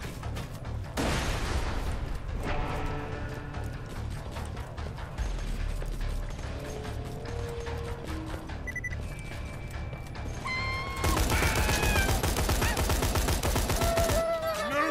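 Bursts of automatic and single gunfire from Borderlands 2, with mechanical weapon clatter and game effects, rapid repeated shots coming in waves and growing louder toward the end.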